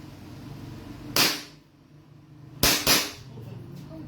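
A 5.1 KP19 airsoft pistol fires three sharp shots in a bright, snappy pattern: one lone crack, a pause, then two quick close ones. A low background hum runs underneath.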